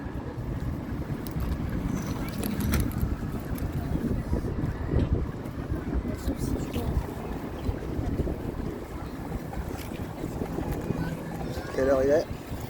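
Strong evening wind buffets the microphone outdoors with a continuous low rumbling roar that persists throughout, while a person talks intermittently underneath it.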